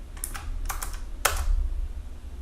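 Quick bursts of computer keyboard clicks as a URL is typed, several rapid keystrokes in short clusters followed by a final firmer tap, close up over low background hum.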